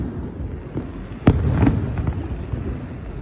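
Fourth of July fireworks at a Riverwalk display in 2024: a sharp loud burst followed by rolling crackles and rumbling echoes, with a fainter pop before it, heard from a distance with no talk.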